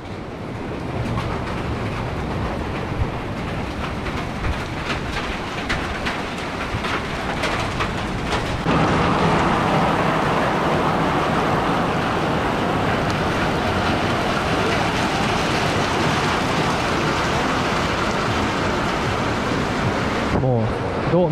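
Heavy monsoon downpour in Kerala, a dense, steady roar of rain that swells louder partway through and stays thick and continuous, with no voices over it.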